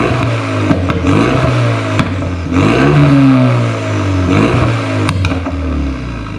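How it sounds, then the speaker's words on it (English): Renault Megane RS250 with a decat exhaust and a Stage 1 map, warmed up and revved to around 3,000–4,000 rpm: a loud, close engine swelling and falling through several rising blips, with no talk over it. "We're gonna give it a bit of a rev, probably 3 or 4 grand."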